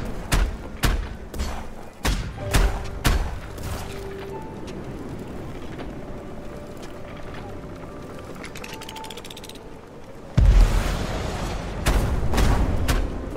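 Heavy explosive thuds and booms from a torpedo strike blowing apart an asteroid in the airship combat game Black Skylands, several sharp impacts early on, then a loud, sustained blast rumbling in the closing seconds.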